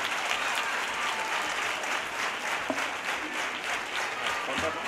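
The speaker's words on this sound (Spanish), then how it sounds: "ese aplauso fuerte, fuerte de este magnífico pregón" A crowd at a village fair coronation in Taraguilla applauds after an opening speech, a dense, sustained clapping that holds steady from start to finish.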